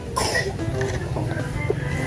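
A woman who has fallen ill gives a single short cough near the start, close by, followed by quieter background sounds.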